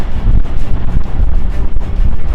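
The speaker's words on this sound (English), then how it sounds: "You can hear the sloshing on the hull." Water sloshes and slaps against a sailboat hull in the turbulent current of Dodd Narrows, irregular surges under loud buffeting wind noise close to the microphone.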